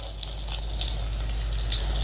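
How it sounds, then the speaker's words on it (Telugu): Chopped onion pieces frying in hot oil, a steady close hiss of sizzling with a low background hum, unbroken for the short stretch. "ఈ ఉల్లిపాయల్ని బంగారు వర్ణం వచ్చేంత వరకు ఫ్రై చేసుకుందాం"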